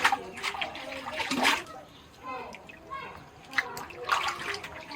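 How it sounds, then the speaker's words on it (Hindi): Fresh coriander is rinsed by hand in water, giving soft splashing and sloshing in bursts with trickling in between, fairly faint and close, while someone talks over it. "तो इस धनिया को भी हम 3-4 पानी धो लेंगे"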